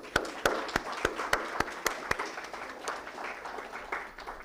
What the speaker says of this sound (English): huge round of applause for all of us